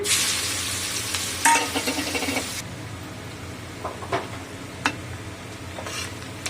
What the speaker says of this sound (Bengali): ওই তেলেতেই আমি পেঁয়াজ দিয়ে দিচ্ছি